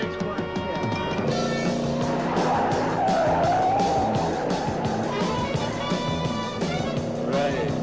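A car speeds along with tires squealing and skidding, the engine loud and steady throughout, with voices talking over the noise.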